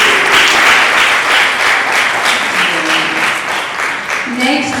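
An audience at an Innovation & Tech 4 Girls panel discussion in Accra, Ghana gives loud, sustained applause with voices mixed in, and a voice rises as the clapping thins near the end.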